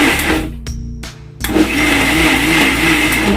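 A kitchen mixer grinder whirs loudly while blending vallarai keerai greens, with its motor briefly cutting out and restarting in short pulses before running steadily again, close and harsh with no talking.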